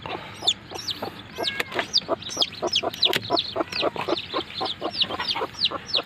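A mother hen clucks while settling back over her newly hatched chicks, a close, busy series of short rhythmic clucks mixed with higher chirps from the chicks, with no talking.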